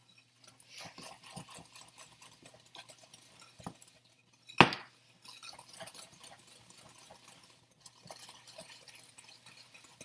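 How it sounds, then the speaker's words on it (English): A wire whisk beats sugar into melted butter in a bowl for brownies, giving light, irregular scraping and ticking strokes close up, with one sharper knock against the bowl partway through. "I'm going to use my wire whisk, and then I'm going to whisk this all together"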